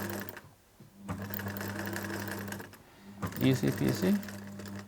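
A sewing machine runs steadily stitching a placket seam on a knitted cardigan, its rapid mechanical hum continuing under conversation, pausing briefly, then resuming with light clicks.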